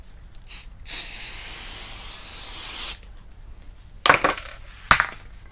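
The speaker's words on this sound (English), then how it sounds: "I'm gonna spray some hardener, activate on it." An aerosol can sprays hardener onto a fleece-backed fiberglass dashboard repair in one steady hiss lasting about two seconds, followed by a few short sharp clicks and knocks.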